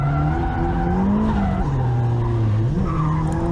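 Accelera 351 Sport GD tires on a drift car squeal continuously on the track, a loud, sustained wavering howl whose pitch slides up and down as the car slides, with engine roar beneath.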